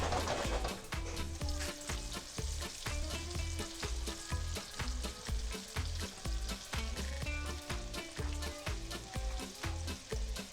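Fresh squid calamari, floured and shaken of excess flour, frying in oil with a steady close sizzle and bubbling, broken by a regular pattern of sharper taps or knocks throughout.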